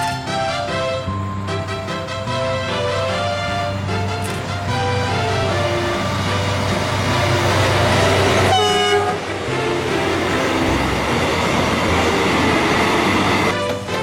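A train passes close by on a curve east of a station, its loud rumbling wagons and wheel clatter filling the whole stretch, with a horn toot near the start and no voices.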